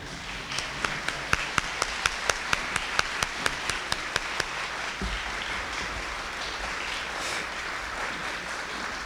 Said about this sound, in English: Will all of our nominees for Teacher of the Year please stand for a round of applause?